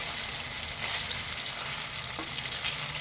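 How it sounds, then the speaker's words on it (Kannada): Bitter gourd pieces fry in a pan with a steady, close hiss of oil, broken by occasional stirring scrapes and small crackles. "ನೋಡಿ ಹಾಗಲಕಾಯಿ ಚೆನ್ನಾಗಿ ಫ್ರೈ ಆಗ್ತಾ ಇದೆ"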